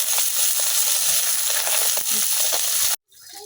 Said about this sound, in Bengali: বাকি সাইডটাও কিন্তু আমি খুব ভালোভাবে ভাজা নিলাম